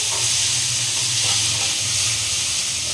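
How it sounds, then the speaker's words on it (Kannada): Ginger garlic paste sizzling in a pan while making mushroom manchurian, a steady broad hiss and frying crackle that runs evenly throughout with a low hum beneath and no voices. "ಇವಾಗ ಚೆನ್ನಾಗಿ ಒಂದು ಎರಡು ನಿಮಿಷ ಫ್ರೈ ಆಗಲಿ"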